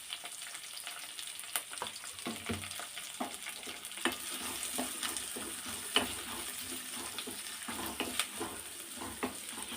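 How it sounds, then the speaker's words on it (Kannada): Onions and curry leaves fry in oil with mustard seeds for a bitter gourd gojju, giving a faint, steady sizzle close by, with frequent small clicks and scrapes of stirring scattered throughout. "ಚೆನ್ನಾಗಿ ಕಂದು ಬಣ್ಣ ಬರುವವರೆಗೂ ಫ್ರೈ ಮಾಡ್ಕೊಳ್ಳೋಣ"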